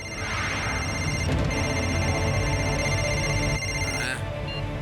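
A cartoon telephone rings loudly and continuously in bright repeated electronic bursts, with a short break near the middle and a sweep at the end, and no talking over it.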